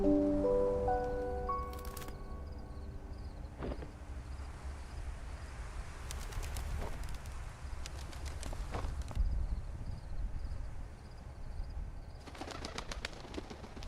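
A bird in A Bird Story makes soft cooing and brief flutters amid quiet game ambience, with a few sharper clicks and bursts scattered over a steady low background.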